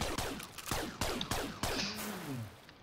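Gunshots in the tower-defense game 1001st Hyper Tower: about five sharp, evenly spaced shots ring out one after another, each with a short decaying tail, loud and close.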